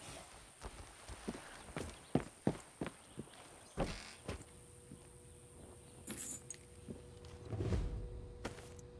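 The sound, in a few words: keys jangling being picked up in video game Far Cry 6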